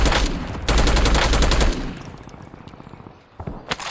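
Rapid automatic gunfire in Warzone, a loud close burst of shots in the first two seconds, then quieter scattered fire and a few later shots.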